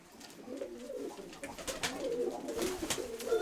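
Pigeons coo softly and repeatedly, low throaty warbling calls overlapping close by, with faint background noise.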